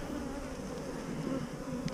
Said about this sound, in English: A lot of bees on this one.